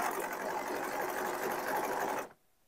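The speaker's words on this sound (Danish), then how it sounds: "Og her har vi altså denne her super elastiske overlock, så vi har to nåle" A twin-needle overlock sewing machine stitches jersey fabric in one rapid, even mechanical chatter up close, running steadily for about two seconds before stopping abruptly into quiet.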